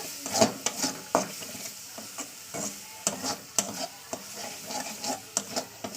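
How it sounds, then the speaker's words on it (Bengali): A spice paste (masala) is sautéed in oil in a pan, with a soft sizzle under repeated scraping and clattering strokes of a spatula stirring against the pan at an irregular rhythm. "এবার দেখতে পাচ্ছেন আমার মশলাটা ভালো কষানো হয়ে গেছে"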